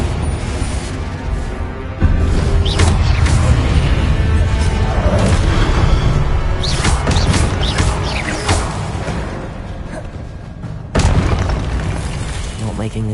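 Confringo blasting curse in Hogwarts Legacy combat, with loud booming explosions and crashing impacts across the span, sharp bursts near the start and again toward the end, mixed with a voice speaking over the action.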